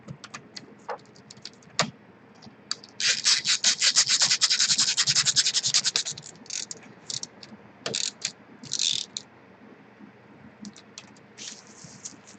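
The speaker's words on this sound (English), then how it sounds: "We'll put our screws back in." Screws being driven back into the fuser unit of a Toshiba eStudio 857 copier, with close ratcheting and whirring bursts from a driver between quieter clicks and handling noises.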